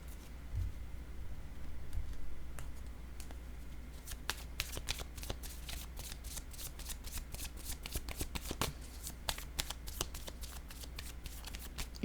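Tarot-style reading cards handled close up, a run of quick crisp flicks and soft slaps as cards are shuffled and laid down on a surface, faint and steady against a low hum.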